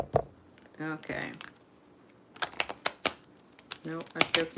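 Tarot cards are shuffled by hand in short riffling bursts with pauses between, close and quiet, accompanied by a person speaking at times.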